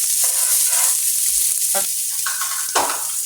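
Food sizzles and fries steadily in a seasoned pan at close range, a continuous crackling hiss with a few light stirring or scraping sounds.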